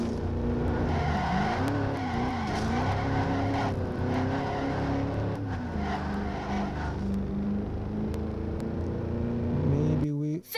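Ford Racing 3 cars sliding through a drift, steady engine roar with wavering tire-squeal tones running throughout, loud and continuous, with brief voices over it and a sharp cutoff at the end.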